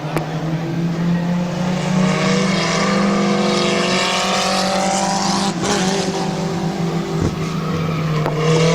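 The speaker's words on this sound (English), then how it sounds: "Howard Bartholow out to qualify next in the number 115 car" Number 115 race car on a qualifying lap at Midvale Speedway, its engine roaring loud and steady throughout, rising and falling as it passes near.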